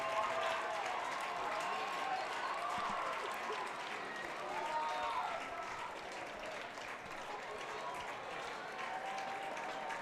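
Spectators at a boys' mile relay at a twilight track meet cheer and clap as runners come down the stretch, a fairly faint, distant wash of crowd noise with scattered shouting voices mixed in.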